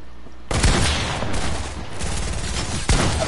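Gunfire in a video game shooter match on a 1v1 map, loud rapid bursts of shots in sustained volleys with sharp onsets, close and dominant, no talk.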